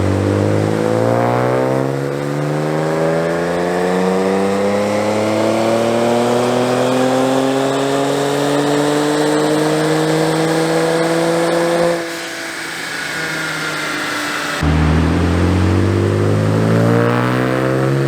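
Tuned Infiniti Q60 3.0T running on E85 pulls hard on a dyno, its engine note rising steadily through a long loud sweep before dropping off and revving again, with no talk.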